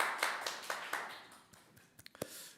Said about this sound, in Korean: 우리의 찬양과 기도를 받으신 하나님께 영광의 박수 올려드리겠습니다